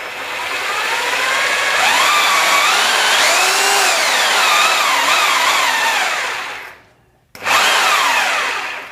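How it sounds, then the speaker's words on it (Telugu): A rotary hammer drill machine whines loudly and close, its pitch rising and falling as it runs, then stops briefly and starts up again. "మనం పవర్ ఇచ్చిన తర్వాత డ్రిల్ వేసుకునేటప్పుడు"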